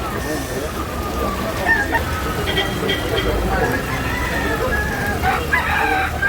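Chickens and roosters at a rainy outdoor poultry market in Tabunok, Cebu, with crowing and clucking rising over steady rain, while people talk nearby throughout.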